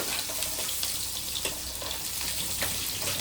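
Onions fry in a pan for okra curry, giving a close, steady hissing sizzle with faint stirring taps and no talk.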